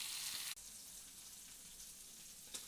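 Sankara fish frying in a pan, a soft, continuous sizzle with a short break early on and a faint crackle near the end.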